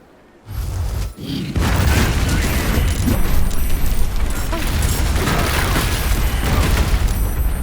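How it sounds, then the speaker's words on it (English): A fireworks shop blowing up in a video game: a heavy boom, then a dense, sustained roar of rumbling blasts and crackling bursts that stays loud throughout. "If we hear massive explosions and the top of the building blows up"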